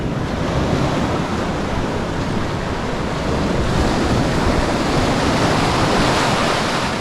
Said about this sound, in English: Get up on those rocks real quick and avoid wet feet before the breakers come back in on me.